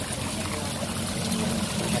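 A small waterfall stream at a Thai temple gives a steady, close rush of flowing water, a continuous trickling and splashing that holds an even level throughout.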